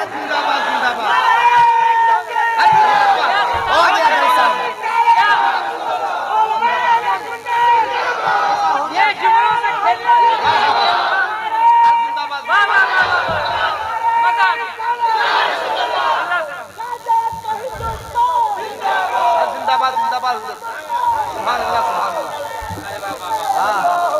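A large crowd at a Tahreek-e-Raza conference answers the Takbir slogan call with loud, repeated chanted shouts, rising in waves of massed voices across the whole stretch, close and dense with babble between the calls.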